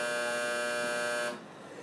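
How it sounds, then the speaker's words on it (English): A classroom bell buzzer in an algebra class blares as a loud, steady electric tone for over a second, then cuts off abruptly, leaving quiet room noise. "there's the buzzer"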